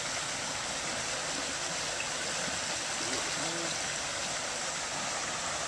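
Steady rushing creek water flows and babbles continuously, a broad, even wash of sound with no voices.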